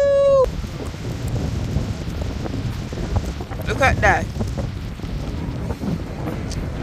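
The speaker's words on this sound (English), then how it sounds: "So windy." Strong wind buffets the microphone at a beach, a loud, constant rumbling roar throughout, with brief speech and voices faintly under it.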